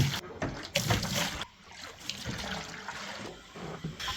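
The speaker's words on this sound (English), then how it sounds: "It is running water into the tank" Water runs from a float valve into a barn tank, a continuous rushing, splashing flow with faint gurgles that dips briefly before resuming.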